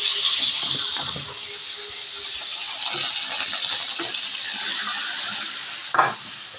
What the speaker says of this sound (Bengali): আমি গরম তেলের মধ্যে টমেটোটা আমি দিয়ে দেবো।